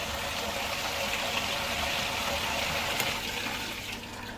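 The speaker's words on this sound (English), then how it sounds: "this is basically a water butt pump" A water butt pump in a big bucket pushes water through a cider brewing fermenter for cleaning, a steady full-band rush and gurgle of circulating water, continuous and fairly close with no talk.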